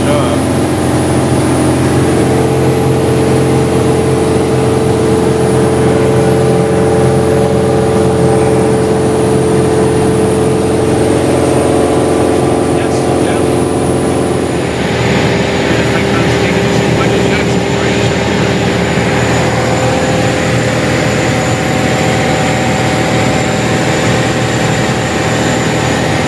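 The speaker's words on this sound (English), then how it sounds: "Flying airplane over the Santa Maria Valley." Steady, loud drone of a small propeller airplane heard from inside the cabin in flight over the Santa Maria Valley, a continuous engine hum with a slight shift in tone partway through and a faint voice in the background.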